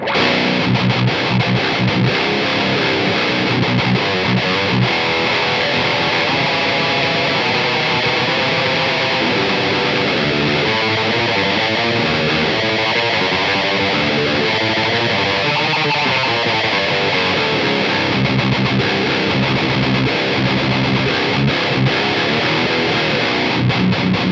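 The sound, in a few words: distorted electric guitar tone through Aurora DSP Laboga Mr. Hector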